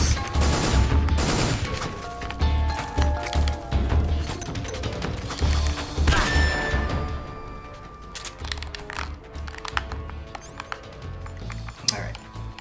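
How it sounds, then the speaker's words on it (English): Combat in Metal Gear Solid 3 as a stun grenade goes off: loud repeated bangs and crashing impacts, then scattered clattering and mechanical clicks, with someone talking throughout. "Alright, stun grenade."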